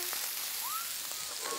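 Onions sizzle in bacon fat on a ceramic Monolith grill, a steady, close, dense hiss of frying with faint crackles throughout.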